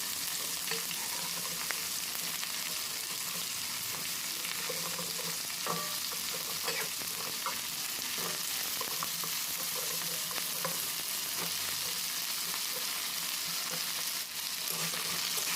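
Potatoes, flat beans and taro go in with lightly fried onion and are stir-fried for a couple of minutes. A constant loud sizzle runs under scattered spatula clinks and scrapes from steady stirring.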